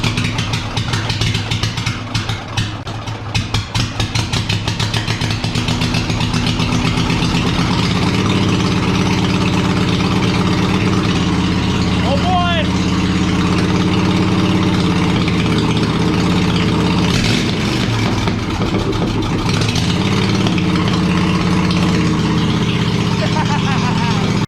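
A tractor engine runs steadily with the choke on, loud and close with a rough idle throughout, and the pitch shifts slightly midway.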